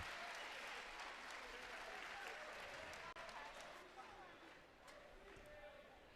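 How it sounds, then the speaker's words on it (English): Steady applause from a basketball crowd as two players leave the court near the end of a close men's game, a dense, even clatter of clapping that fades slightly toward the end. "Burnham and Wyman exit to a round of applause."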